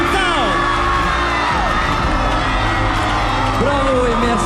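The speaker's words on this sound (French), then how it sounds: "Bravo et merci d'applaudir bien fort notre Mr Tahiti 2024, Carl Schoentown" A crowd at the Mister Tahiti 2024 pageant cheers and whoops loudly for the newly crowned winner, with high shouts and yells layered over a dense, continuous roar close by.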